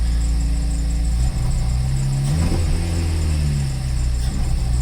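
Idling close by, the engine of a Toyota Celica GT-S fitted with a polyurethane front motor mount insert keeps up a steady hum, with short, gentle throttle blips swelling the drone a couple of times and no talk over it.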